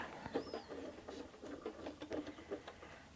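Sewing machine stitching around appliquéd fabric leaves on a flowers quilt block, a quiet run of quick rhythmic needle taps in short bursts, close and alone with no talking.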